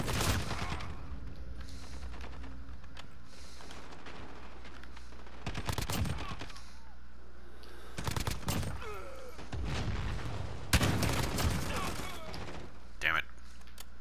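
Call of Duty: Modern Warfare gunfire comes in several sharp bursts of shots over steady background game noise, with a pause between volleys.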